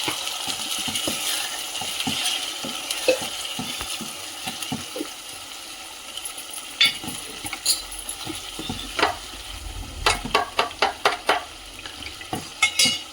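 A mutton kheema ball gravy base fries in a pan, a quiet sizzle under scattered scraping and clinking from a spoon stirring against the metal, with sharper taps clustering toward the end.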